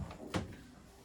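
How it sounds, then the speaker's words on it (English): Solid wooden drawers in a 2023 Arctic Fox 305RD RV sliding shut with a single short, fairly loud thud in the middle of a brief, otherwise quiet moment. "So we've got a few drawers go in and out."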